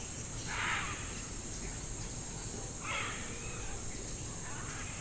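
Two harsh, raspy jungle bird calls sound from a distance over a steady buzz of insects, with a fainter call near the end.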